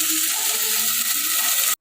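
Milk poured into sago frying in hot ghee for a sweet milk pudding sets off a loud, steady sizzle and bubbling hiss that holds evenly before cutting off abruptly.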